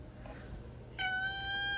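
A cat named Hardy, caught trying to get into a drawer, gives one drawn-out, clear meow, close and fairly loud, after a quiet pause.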